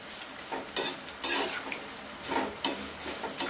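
Corn chivda turns and roasts in a pan, with scraping stirs and swishes that come in uneven strokes over a soft sizzle, close up and without any voices.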